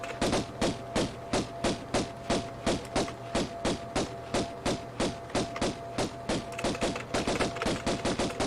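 Lara fires at monsters in Tomb Raider (1996), a steady run of about thirty evenly spaced pistol shots, loud and close, with a low hum behind them.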